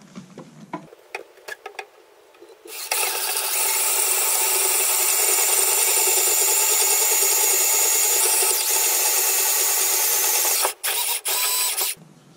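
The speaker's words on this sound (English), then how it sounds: "So now we got the 3/8 drill bit on there. Gonna finish drilling the last hole" A power drill with a 3/8 drill bit bores through RV mud flaps, its steady whirring grind running loud and continuous for about eight seconds, with brief clicks and handling noise before and a short stop-start burst at the end.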